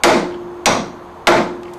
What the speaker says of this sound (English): So we'll just beat on that a little bit with our brass hammer there